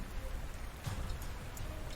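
Steady rain in the Panzer Corps strategy game falls as a soft, even hiss with faint patters, low in level and continuous throughout.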